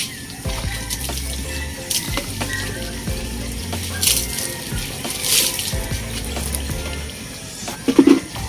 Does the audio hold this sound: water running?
yes